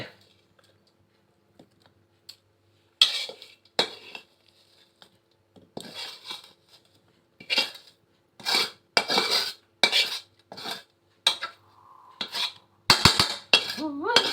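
A spoon clinks and scrapes against a metal pot and plate while frog curry is served, bursts of sharp scooping knocks arriving in uneven clusters after a quiet start, close and fairly loud.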